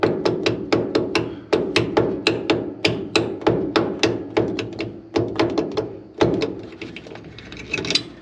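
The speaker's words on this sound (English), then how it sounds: "So we'll use my biggest hammer I got here." A big hammer strikes a stuck, damaged nut during a rear end swap, giving repeated sharp metallic blows in a quick steady rhythm. Two short pauses break the series, and the hits are close and loud with no talking.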